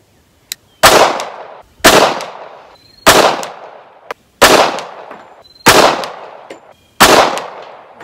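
Six loud, sharp gunshots from a Tisas A1 1911 .45 ACP pistol at an outdoor range, fired at a steady pace of roughly one per second, each with a ringing decay.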